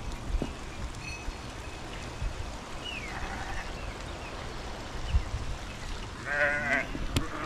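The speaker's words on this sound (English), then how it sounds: "So this is the small girl looking after sheep." Sheep bleat in Maasai grazing land in Kenya, a short call early on and a clearer harmonic bleat near the end, faint and fairly distant over steady outdoor background noise and wind.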